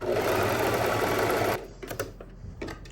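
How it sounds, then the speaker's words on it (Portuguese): A domestic sewing machine stitches over overlapped knit fabric, a loud, fast continuous whir for about a second and a half, then it stops and a few soft handling clicks follow. "E aí, a gente costura por cima, ó."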